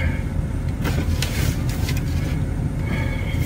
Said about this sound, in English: Truck's warming up.